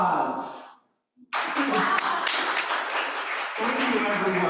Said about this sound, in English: Round of applause for everybody for this table